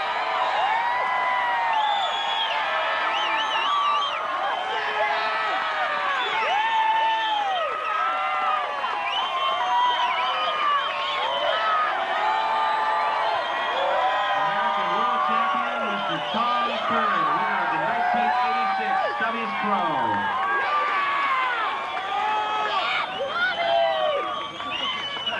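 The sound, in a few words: crowd cheering and applause at surfing contest awards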